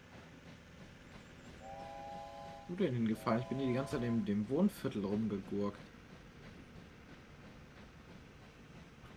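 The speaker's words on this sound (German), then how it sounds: "Oh, da ist der Zug." A train in the video game Wobbly Life passes and sounds a harmonic horn that swells and wavers for a few seconds, with someone talking in German over it.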